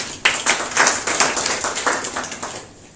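Students in a computer classroom clap together in a short burst of quick, sharp, rhythmic claps lasting about three seconds before tapering off.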